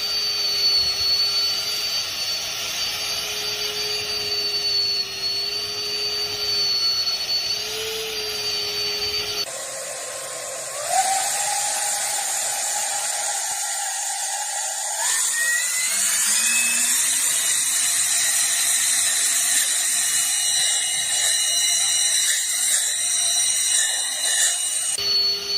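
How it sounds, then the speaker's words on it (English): A single-fan thrust vectoring drone in flight, a loud steady electric whine that shifts abruptly partway through into rising and falling pitched tones, continuous with no talking. "thrust vectoring drone."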